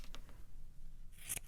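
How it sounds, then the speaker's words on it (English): Scissors snip around a paper craft piece for a Patrick Star key chain finger puppet, two faint early snips followed by a louder, closer cut near the end, with no talking. "I'm going to cut around that as one piece"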